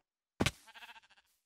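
A single Minecraft sheep bleat from the video game, heard alone: a sharp onset followed by a quick wavering, pulsing tail that fades out within about a second.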